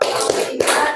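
A class claps hands together in a quick rhythmic pattern, a few sharp claps close by and fairly loud with no talk over them.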